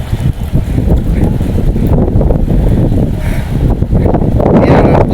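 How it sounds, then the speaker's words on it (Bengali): Heavy rain and strong wind beat on an open rooftop in a continuous, loud, dense roar that surges slightly in places, with no voices. "প্রচুর বৃষ্টি হইতেছে, বাইরে যাইতে পারি নাই। গাইস দেখেন, প্রচুর বৃষ্টি, প্রচুর বাতাস।"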